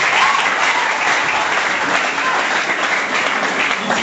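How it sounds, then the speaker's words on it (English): Sustained, loud applause from a school audience at a debate competition, a dense even wash of clapping that holds for the full four seconds without talk. "Please clap for her as she wants to speak."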